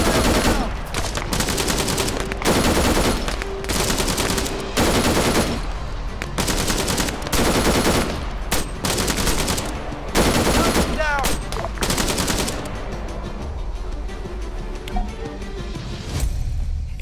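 Sustained gunfire during an ambush in the ARMA 3 military game: dense bursts of automatic and rifle fire crack out in rapid succession for most of the span, loud and close, thinning toward the end with scattered shots.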